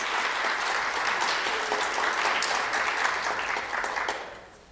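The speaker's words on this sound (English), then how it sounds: "Let's give another round of applause to all of our young speakers for their outstanding presentations." Audience applause for young speakers at a speech competition finals, a dense sustained wash of clapping that holds steady and then fades out toward the end.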